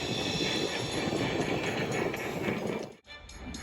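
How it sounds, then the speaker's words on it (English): A steady rolling rumble like a train running along the track, continuous and fairly loud, with a brief cut near the end. "The next morning, Murdoch collected another long, heavy train."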